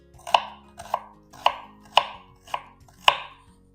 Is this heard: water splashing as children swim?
no